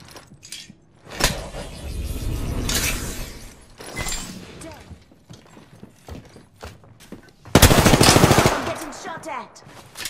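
Rapid bursts of gunfire from an Apex Legends match, crackling in several loud volleys with a sharp, dense blast near the end, mixed with scattered game effects and brief talk.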